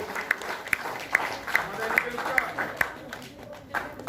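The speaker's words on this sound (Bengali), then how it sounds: "সবাই মিলে একটু করতালি দিয়ে" An audience at an annual ceremony in an art and culture academy claps in a steady, evenly spaced rhythm, with a crowd murmuring beneath it.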